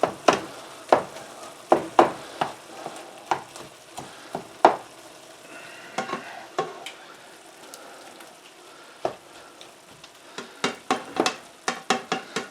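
A utensil breaks up ground meat for Coney sauce in a hot pan, giving sharp scraping taps in irregular bursts over a soft, steady sizzle, close by.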